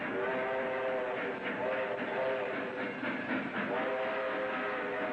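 A train rumbles past with steady clattering and a droning, whistle-like tone throughout, fairly distant, with no speech.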